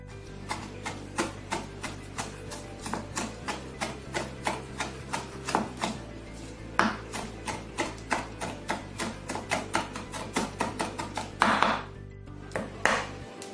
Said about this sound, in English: இப்போ இது வந்து நம்ம சின்ன பீஸஸா சாப் பண்ண போறோம்.